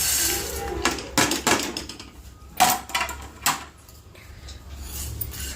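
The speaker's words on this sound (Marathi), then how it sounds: "तर आता आपल्याला हे सर्व पदार्थ कढईत टाकायचे" Dry spices such as fennel seeds tipped from small bowls into a hot iron kadhai in a home kitchen, heard as a few sharp clinks, rattles and scrapes of metal and dishes, fairly close, with no talking.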